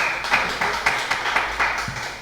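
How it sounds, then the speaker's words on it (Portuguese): A congregation at a Pentecostal Assembly of God church service clapping in a brief round of applause, with regular, fairly loud hand claps roughly every quarter second and no voices. "E uma salva de palmas para Jesus"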